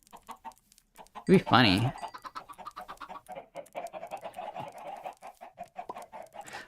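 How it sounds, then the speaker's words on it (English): Minecraft chickens cluck in short game-sound bursts, with one louder squawk early on, while a person talks over much of it. "Let's go feed these to the chickens."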